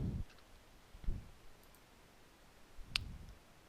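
A few quiet computer mouse clicks, including a crisp click on a save button, separated by soft low thumps of handling in a quiet room.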